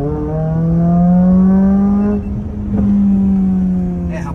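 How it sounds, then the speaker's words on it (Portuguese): A tuned Renault Sandero RS with a remapped engine and an aftermarket exhaust system holds a loud, steady rev close by, the engine note rising and then easing, with faint crackles near the end. "Esses pipom que tá dando por quê? É por conta do mapa e por conta do sistema de escape que a gente colocou nele."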